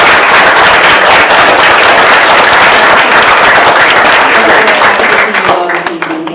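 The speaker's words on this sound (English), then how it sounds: "I really just want to clap for now" A crowd applauding loudly and continuously at a city council regular meeting, dense clapping that fills the space before tapering off near the end.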